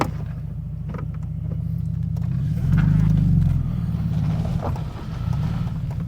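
A 1999 VW Golf MK3 Cabriolet's engine pulls hard and rises in pitch, a steady low drone swelling mid-pass before easing, with wind rush over the microphone throughout.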